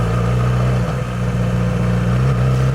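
A 2014 Yamaha R6 inline-four motorcycle engine running steadily up close, a loud continuous hum with a brief dip in revs before holding even again.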